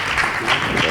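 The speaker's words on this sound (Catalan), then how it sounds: "Aplaudiment per al senyor alcalde, Paco." A crowd at a Falles festival awards ceremony applauds the mayor, a brief burst of dense clapping, close and fairly loud.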